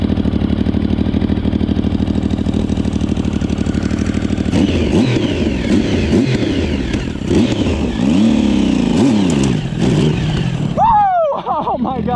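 A Yamaha Raptor ATV with a swapped-in 1050cc engine runs loud and close, idling with a throbbing pulse and then revving hard in repeated rising and falling surges. A voice is faintly present under the engine.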